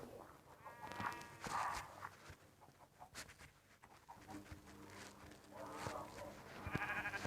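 Sheep bleat repeatedly in modded Minecraft Pocket Edition over a busy, low-level background of other animal calls and faint noise.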